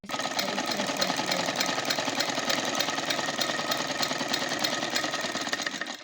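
Sewing machine stitching fabric, a rapid, even mechanical whir with a fast repeating needle rhythm, close and steady throughout with no pauses.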